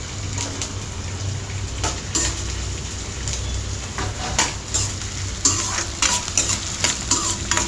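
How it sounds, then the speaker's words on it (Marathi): Edible gum frying in ghee, a dense steady sizzle close by with a spoon repeatedly scraping and clinking against the pan as it is stirred. "मी थोडा डिंक तळून घेते आणि त्याच्यात तूप टाकते"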